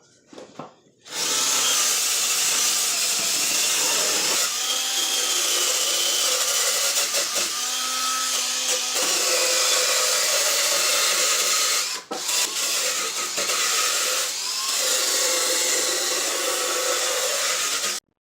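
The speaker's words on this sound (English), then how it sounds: "you can also use a wire brush on your cordless drill." A cordless drill whirs continuously while a wire brush scrubs and rasps against a push mower's metal deck, loud and close, with a brief pause near the end.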